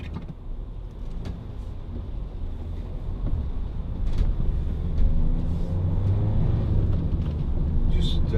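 Inside a Peugeot Partner 1.6 HDi van on the motorway, a steady low engine and road rumble fills the cabin, growing slightly louder as speed builds, with wind noise and a voice talking over it.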